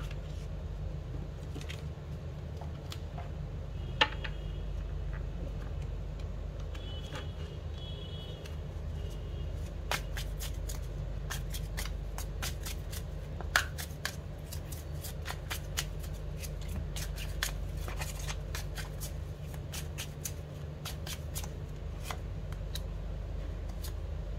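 Tarot cards are shuffled by hand, giving a run of crisp riffling clicks and soft slaps that recur irregularly over a steady low room hum, with no one speaking.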